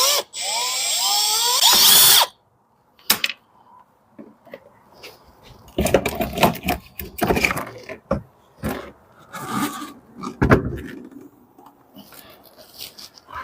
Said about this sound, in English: We'll undo the bottom hinge first and then undo the top hinge.